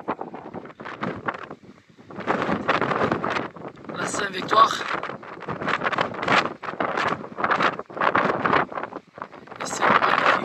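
Strong wind buffets the microphone on a mountain summit in Provence, a steady roaring rush with gusty swells throughout while someone speaks French over it.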